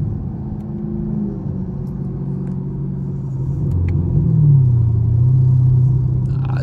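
A Chevrolet Camaro SS rumbles from inside the cabin while it is driven. The low engine drone holds steady, then rises in pitch and swells a little as the car pulls harder. No one talks over it.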